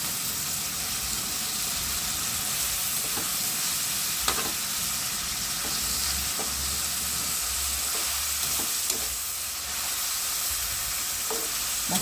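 Washed shrimp paste and kamias with chilli sizzle and crackle steadily in a hot pan, a loud continuous fry with occasional stirring clinks and no talk.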